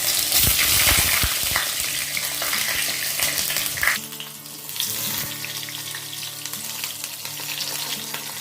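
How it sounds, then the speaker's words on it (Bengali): Eggplant pieces dropped one by one into hot oil already frying panch phoron, a loud steady sizzle and crackle that drops and settles into a softer continuous frying hiss midway, with no one talking. "এবার এতে আমি একে একে বেগুনগুলো দিয়ে দেবো।"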